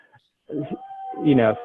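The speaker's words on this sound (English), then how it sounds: "If you can hear some howling" A dog howls nearby in a drawn-out, wavering cry, rising after a brief pause, with a speaker talking in the room around it during a startup demo day presentation.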